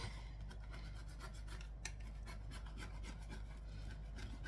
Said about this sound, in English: Now I'm just going to scrape that again.